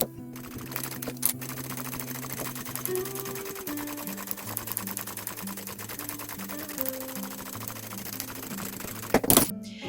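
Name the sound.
sewing machine stitching around a bag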